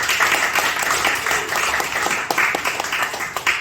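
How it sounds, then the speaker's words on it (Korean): A church seminar audience claps together in a steady, dense patter of hands, fairly close and continuous with a few sharper individual claps standing out. "그래서 박수 좀 치게 좀 해주시죠."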